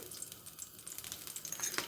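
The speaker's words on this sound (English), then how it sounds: "Once it starts sizzling" Olive oil heating in a heavy frying pan, a faint, soft, steady sizzle with light crackles throughout.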